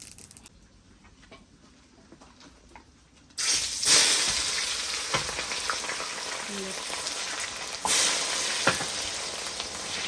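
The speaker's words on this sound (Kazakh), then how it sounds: "Қатты отта пиязымызды сарғайғанша қуырып аламыз" Onions fry over high heat in sunflower oil in a kazan for Uzbek pilaf: a faint start, then a sudden loud burst of sizzling that settles into steady crackling spatter with occasional stirring clinks.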